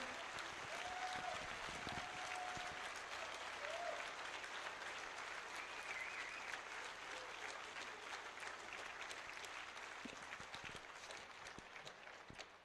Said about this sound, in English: let's give a round of applause to the speakers